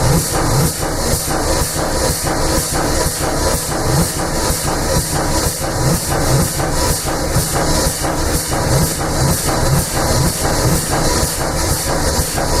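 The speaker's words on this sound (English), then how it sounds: "Now we use our HP air regulator slowly to bring up our test pressure" Air hisses steadily as an HP air regulator slowly raises test pressure during an RV vacuum and pressure test, a loud continuous rush pulsing in a regular rhythm with no voices.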